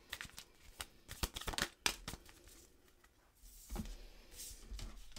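Island Time Wellness Love Oracle cards are shuffled by hand, with a rapid run of close, crisp flicks and riffles followed by softer sliding and rustling as the deck settles.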